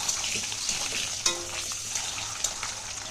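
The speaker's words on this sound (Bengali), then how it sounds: "তো ডিমগুলো আগে ভেজে নিচ্ছি" Eggs fry in mustard oil in a wok with a soft continuous sizzle, punctuated by a few sharp pops and light spatters, fairly quiet and close.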